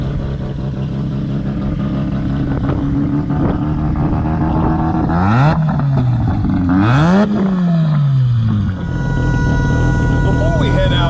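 Hummer H1 engine driving off-road, a loud steady rumble that rises and falls in pitch with two clear revving swells, under continuous talking.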